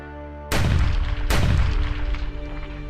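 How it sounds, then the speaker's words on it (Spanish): Two loud cannon shots fired from the Paso Alto castle as an alarm, each a sharp booming blast about a second apart with a long rolling decay over a steady low hum. "dio aviso de alarma con 2 sonoros cañonazos"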